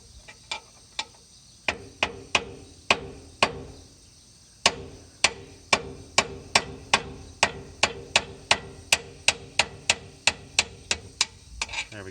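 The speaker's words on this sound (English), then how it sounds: "I'm going to use a screwdriver. We're going to try to pound this up a little bit." Sharp metallic taps ring out as a screwdriver pounds on a bolt in a disc mower, a few spaced strikes followed by a fast, steady run of close, bright impacts.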